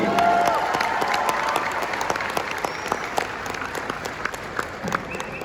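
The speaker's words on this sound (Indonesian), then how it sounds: "Tepuk tangan untuk semua yang hadir di sini." Steady, dense applause from an audience at a political speech rally for Anies Baswedan in Indonesia, continuous clapping that holds strong throughout and eases only slightly toward the end, with no speech over it.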